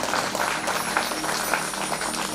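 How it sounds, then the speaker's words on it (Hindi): A large devotional gathering at a Bhagavat katha applauds loudly to welcome a guest, continuous dense clapping filling the room from start to finish. "जोरदार तालियों से इनका स्वागत।"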